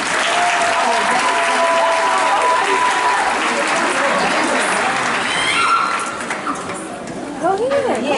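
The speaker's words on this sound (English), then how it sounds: "Please give our officers another round of applause." A large graduation audience claps loudly and continuously for about six seconds, then the applause thins and fades away, with a few scattered voices underneath.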